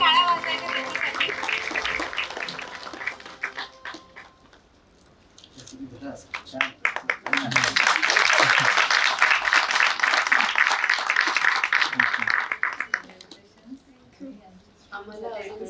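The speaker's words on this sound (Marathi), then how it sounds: "जोरदार टाळ्या वाजवायच्या त्यांच्यासाठी." Audience at a women entrepreneurs' award ceremony broadcast by a radio station applauds an honoured woman, with two loud bursts of clapping and cheering separated by a quieter gap, with some talk around them.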